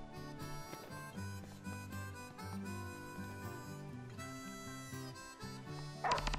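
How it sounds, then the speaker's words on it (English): Umbra, a dog in the video game Final Fantasy XV, yipping and whimpering faintly beneath a tonal music score, with soft intermittent canine sounds and a brighter burst near the end. "Oh yeah, you're Lunafreya's little doggy."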